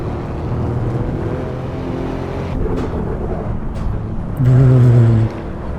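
An Alfa Romeo Giulia Quadrifoglio with a 2.9 V6 bi-turbo drives on the Nordschleife, heard as a loud, steady engine drone from inside the car that swells into a harder, louder roar near the end.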